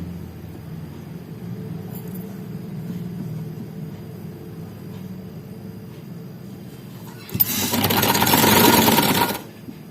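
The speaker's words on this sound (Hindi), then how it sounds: "अब हमने इन किनारों पे सिलाई लगानी है।" A sewing machine stitches along the edges of a kameez side pocket, first a low motor hum for several seconds, then a loud burst of rapid stitching near the end.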